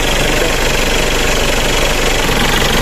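A Mitsubishi Pajero Gen 2 4x4 with a 4M40 diesel engine idles close by, a loud, steady rattling clatter with fast knocking pulses and no pauses.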